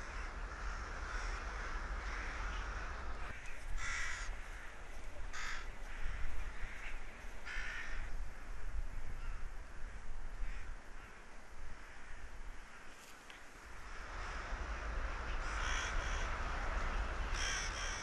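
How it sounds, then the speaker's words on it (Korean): A huge flock of rooks caws continuously near a bamboo grove in Ulsan, a dense, distant chorus with sharper individual calls rising above steady wind-like noise. "떼까마귀는 대숲 근처에서도 흩어졌다 모였다를 반복합니다."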